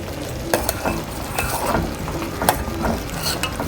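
A spoon scrapes and stirs kheer, rice pudding, in a pot, with repeated grating scrapes and clinks against the bottom at an irregular pace, close and fairly loud with no talking.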